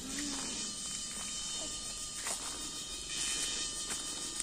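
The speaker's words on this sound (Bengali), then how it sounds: "দিনের মধ্যে ঝিঝি পোকা ডাকে না?" Crickets chirp in daytime in a hilly village in Khagrachari, a continuous high shrill insect drone, fairly faint and steady, with faint background sounds.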